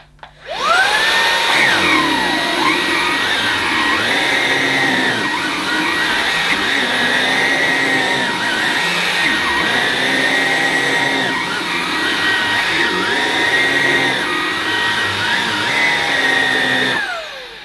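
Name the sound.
Halo Capsule cordless vacuum cleaner running on carpet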